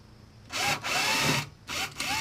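A power drill enlarges a hole in a plastic gas can, whining in three short close bursts with brief pauses between them.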